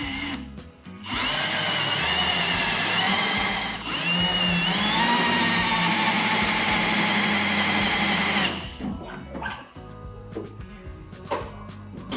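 A power tool drives thread-forming screws coated with anti-seize into a Jeep Gladiator frame: a loud, close, whining drive runs for several seconds, dips briefly, resumes, then stops, followed by quieter clicks and handling noises.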